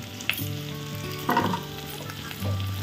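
Turmeric powder and ground spices sizzle in a hot pan for Bengali khichuri, a steady close frying hiss broken by a couple of brief stirring scrapes, with no voices.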